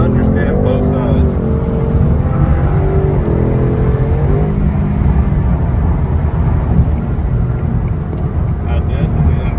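A car with a 10-speed automatic transmission accelerates hard, its engine droning loud and close with rising pitch sweeps as gears change, while someone talks over the engine noise throughout.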